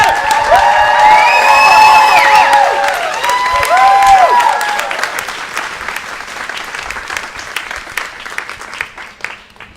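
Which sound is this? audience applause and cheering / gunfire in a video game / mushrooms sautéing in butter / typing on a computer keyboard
audience applause and cheering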